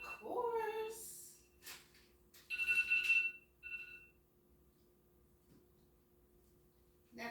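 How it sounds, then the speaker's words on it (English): A kitchen timer alarm gives a short, faint run of electronic tone bursts, with a few other brief household noises around it in an otherwise quiet room. "That's my timer."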